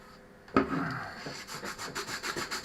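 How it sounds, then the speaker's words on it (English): Hand sanding on a piece being restored in a workshop, a knock followed by rhythmic back-and-forth rasping strokes, close and fairly quiet. "It's going to take a bit more sanding"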